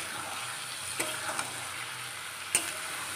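Kabuli chana being stir-fried with salt in goat fat, a steady close sizzle with a few sharp scrapes and clinks of the stirring spoon against the pan, no talking.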